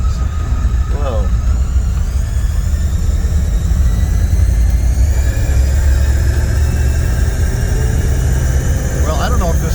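A Chrysler New Yorker classic car driving on a potholed highway, its engine giving a steady, loud drone under constant road rumble, with a brief voice in the cabin.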